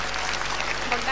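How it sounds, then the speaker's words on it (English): An audience applauds at a comic con Q&A panel, a dense, steady wash of many hands clapping at once, fairly loud and continuous for a brief moment. "Give her a round of applause."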